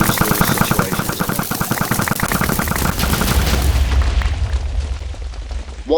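Loud Minecraft explosion: a dense rapid crackle of blasts and pops that fades into a rumbling tail, with no talk over it.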